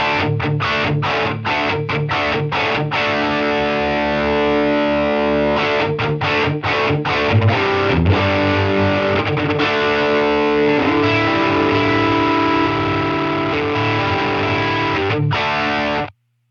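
Heavily distorted electric guitar chords ring out loud and sustained, with brief stops between strummed bursts and a roomy, slightly ambient tone.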